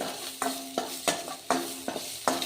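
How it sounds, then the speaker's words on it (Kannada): Onion and garlic fry in a pan, heard as a low crackling sizzle broken by several sharp scraping stirs at irregular intervals, close and clear with no talking. "ಆಮೇಲೆ ಈರುಳ್ಳಿ ಹುರ್ಕೋತೀನಿ. ಈ ಈರುಳ್ಳಿ ಜೊತೆಗೆ ಬೆಳ್ಳುಳ್ಳಿನೂ ಆ್ಯಡ್ ಮಾಡ್ತೀನಿ. ಬೆಳ್ಳುಳ್ಳಿನೂ ಸ್ವಲ್ಪ ಹುರ್ಕೊರಿ."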